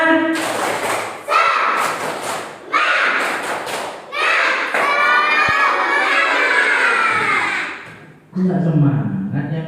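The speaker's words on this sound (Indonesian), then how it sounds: "Masih ingat tepuk semangat? Tepuk semangat dulu ya." A group performs the rhythmic Indonesian tepuk semangat spirit clap, with loud patterned bursts of clapping and thumping mixed with voices chanting and shouting together, pausing briefly between rounds.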